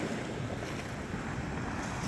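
Sea waves surging high against coastal rocks and stone steps on a rugged shoreline, a steady broadband wash of surf with wind buffeting the microphone throughout, no talking.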